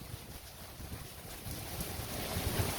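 Strong storm wind roars steadily in England, buffeting the microphone with a dense, continuous rush that grows slightly louder toward the end, with no talk.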